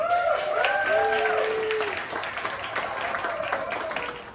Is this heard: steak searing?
no